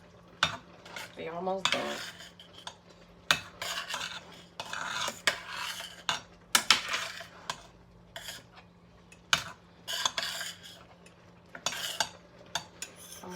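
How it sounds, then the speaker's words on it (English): Noodles stirred in a metal pot in a home kitchen during Easter dinner preparation, with irregular scraping and clanking of a utensil against the pot over a low hum, with brief talk in the middle. "Stir the noodles again."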